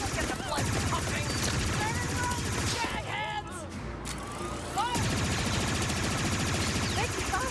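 Blaster fire in Star Wars Outlaws crackles in dense, rapid volleys through a loud firefight, barely pausing except for a brief lull midway, with voices shouting under the barrage.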